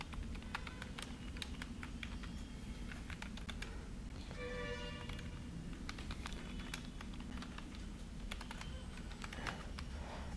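Steady typing on a computer keyboard to enter a customer review, rapid, close key taps in irregular bursts over a low background hum, with a brief tonal sound midway.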